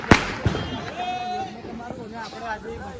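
At a family Diwali celebration, two sharp firecracker bangs go off close by in quick succession at the start, followed by people talking and crowd chatter.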